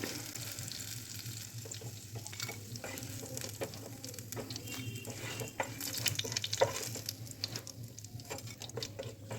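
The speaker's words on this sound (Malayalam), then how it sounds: "അപ്പോൾ കോവയ്ക്കെല്ലാം നല്ല അടിപൊളിയായിട്ട് ഫ്രൈ ആയിട്ടുണ്ട്." Slices of ivy gourd (kovakka) fry in a small amount of oil as they are turned, giving a close, steady, dense sizzle with light crackles and patter throughout, no voices.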